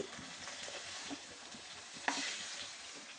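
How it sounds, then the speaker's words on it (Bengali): Fish sizzles in hot oil at a moderate, even crackle, with faint stirring clinks and one sharper pop partway through. "একটু মোটামুটি কড়া করেই একটু ভাজলাম"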